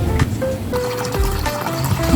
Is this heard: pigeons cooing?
no